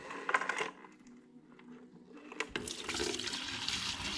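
Dirty Simple Green cleaner from a carburetor rebuild drains out of a bucket: a few faint clinks and trickles, then a sudden, steady rush of pouring liquid that carries on to the end.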